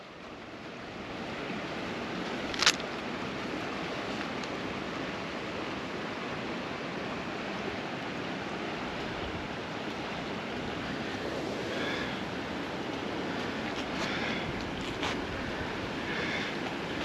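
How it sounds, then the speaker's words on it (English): A small waterfall on the NCR Trail near New Freedom, Pennsylvania, gives a continuous soft rushing wash of water, steady and fairly distant, mixed with light wind buffeting on the microphone and no speech. "There's a little waterfall over there."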